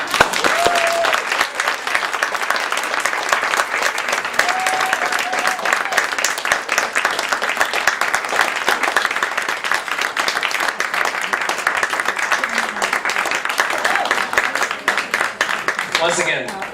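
Long, steady round of audience clapping at a child study center grand opening, applauding someone, dense and even throughout, with a few voices briefly heard over it.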